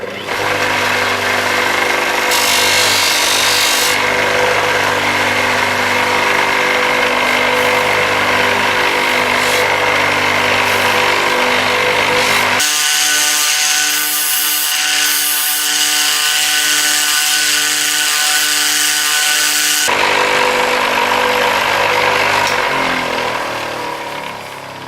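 A polishing wheel buffing the surface of a nixie tube clock part, giving a loud continuous motor whine with steady tonal hum, changing pitch and texture partway through as pressure shifts, with no talking.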